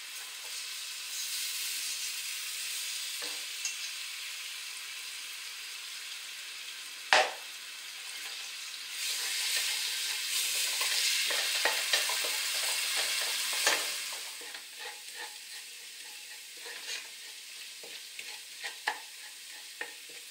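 Garlic frying in olive oil in a pan over lowered heat, a steady close sizzle and hiss with occasional stirring scrapes and crackles, fading to quieter intermittent pops toward the end.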